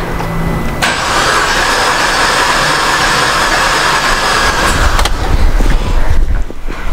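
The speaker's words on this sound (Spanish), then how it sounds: "Ahora sí vamos a dar marcha al motor para ver qué valor nos arroja." Car engine cranked by the starter with the fuel pump disabled so it cannot fire, a steady whirring churn lasting several seconds before it cuts off, followed by clatter and rustling.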